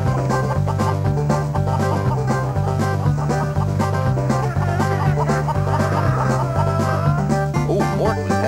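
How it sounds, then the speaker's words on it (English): Chickens cluck in a PlayStation demo game, set on a farm where the birds party while the farmer is away; the clucking sits over continuous loud music with a steady pulsing bass beat. "What do chickens do when the farmer goes to town? Well, they have themselves a party."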